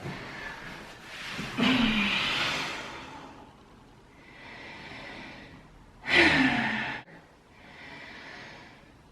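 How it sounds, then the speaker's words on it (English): Slow, deep breathing during a guided mindfulness exercise while lying on the ground, with two audible inhales and long exhales that swell and fade, close to the microphone and without any talking. "We'll just take a few breaths."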